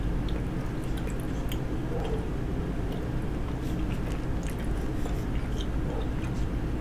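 Steady close-up chewing of chewy, spicy tteokbokki rice cakes with enoki mushrooms: soft wet squishing and smacking runs without a break at a constant level, with no talking.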